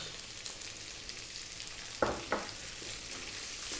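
Onion frying in hot oil with garlic and ginger, a soft steady sizzle with a couple of louder scraping stirs midway, faint and close.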